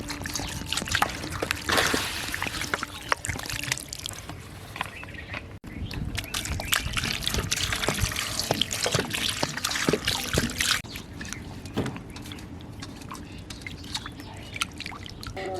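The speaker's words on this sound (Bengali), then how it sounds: "গরম জল ফেলে দেওয়ার পরে উপর দিয়ে একটু ঠান্ডা জল দিয়ে দিচ্ছি, যাতে এটা দ্রুত ঠান্ডা হয়।" Cold water is poured over boiled ash gourd pieces while making a milk morabba sweet: a steady, close stream of trickling, splashing water runs for about fifteen seconds, with brief louder gushes and no talking.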